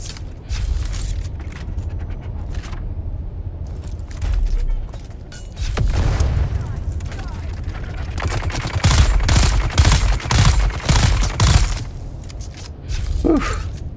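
Bursts of automatic gunfire and rapid volleys from the video game Dune Awakening, clustering into dense, loud fusillades in the second half of the stretch, with a steady low rumble underneath throughout.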